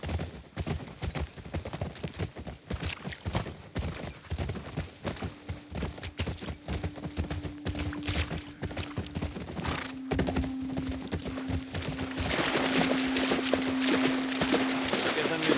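Horses walk with a steady clip-clop of hooves in The Last of Us Part 2, continuous rhythmic hoofbeats close by under game ambience, with a sustained tone and people talking in the latter half.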